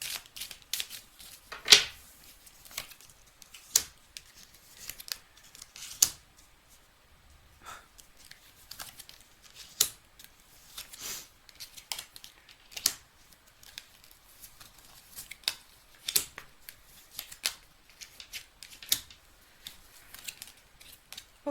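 An oracle card deck shuffled by hand, with repeated short papery riffles and slaps in irregular bursts, close and fairly quiet, no talking.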